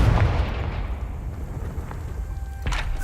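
A Confringo fire spell bursts in Hogwarts Legacy gameplay, a loud explosive boom near the start followed by a low rumbling tail and a second sharp burst later, no voices.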